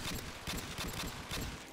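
Rapid bursts of gunfire crackle in quick succession, loud and dense, with short gaps between volleys.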